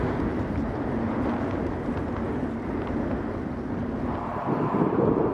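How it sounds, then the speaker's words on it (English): Strong headwind gusting along the Pacific coast near Tillamook while on a bicycle tour, a constant loud roaring rumble buffeting the microphone with no let-up, no voices. "Wind's blowing really good right now."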